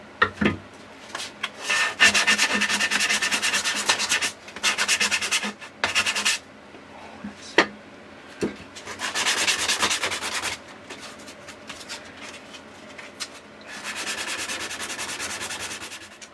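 Hand sanding of an acoustic guitar body's wooden end cap with 120-grit paper on a pad: repeated bursts of close, dry rubbing and rasping strokes, separated by short pauses, with no talking.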